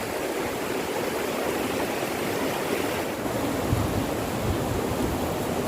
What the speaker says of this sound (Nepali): यो चाहिँ हो हाम्रो सानो खोला नेहुर बालासन खोला यो चाहिँ जो चाहिँ सोनादाबाट यो बगेर आउँछ